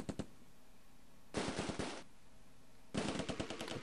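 Machine gun fire in the Close Combat A Bridge too Far video game, heard as short rapid bursts of crisp shots separated by brief quiet stretches, close and alone.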